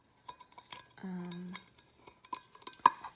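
Metal camping cook pots and a small pan clink and clatter as they are nested together, a series of close, sharp knocks with a short ringing tone in the middle.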